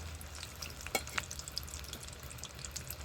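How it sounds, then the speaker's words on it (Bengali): Samosas deep-fry in hot oil in a home kitchen, a quiet, steady bubbling sizzle with a couple of sharper crackles and a light clink near the start. "তো সিঙ্গাড়াগুলো আমি একটু উল্টে পাল্টে ভেজে নিচ্ছি।"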